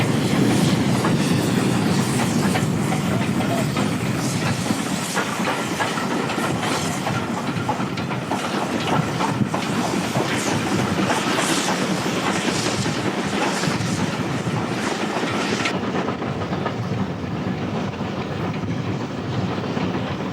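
The steam locomotive Great Marquess hauls a train along the shore of a Scottish loch, its loud, steady rumble and wheel clatter running without a break and easing slightly near the end.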